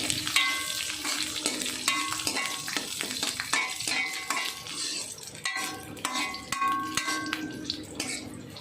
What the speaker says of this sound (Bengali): গোটা কয়েক রসুনের কোয়া দিয়ে দিলাম